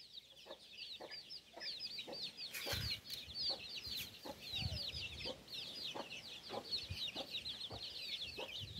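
Chickens on a village farm cluck in quick repeated bursts, faint and somewhat distant, with a few louder knocks and thumps mixed in.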